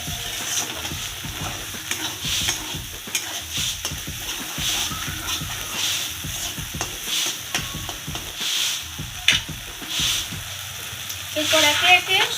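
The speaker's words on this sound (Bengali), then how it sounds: "মশলাটা কষিয়ে নিতে হবে ভালো করে," Masala spice paste stir-fried in hot oil for a vegetarian dudh potol curry, with steady sizzling and repeated spatula scrapes against the pan running throughout and a louder burst of frying near the end.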